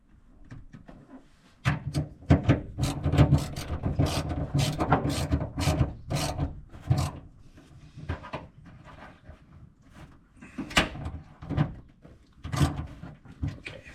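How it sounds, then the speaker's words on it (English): A ratchet wrench tightens a nut, clicking in repeated close bursts of sharp mechanical ratcheting strokes with short pauses between them. "I'm gonna have to tighten up the nut on this side here, just to squeeze a little tighter."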